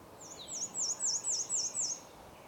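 A warbler sings a repeated squeaky-wheel phrase, six quick high rising-and-falling squeals in a steady run, moderately clear over faint background hiss, with no voices.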